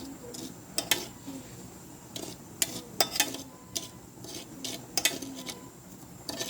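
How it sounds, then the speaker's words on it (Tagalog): Salt is stirred into food until it dissolves, giving soft, irregular clinks and scrapes of a utensil against a dish, faint and close, over a low background hiss. "i-mix-mix lang yan hanggang sa malusaw yung asin para hindi naman halata"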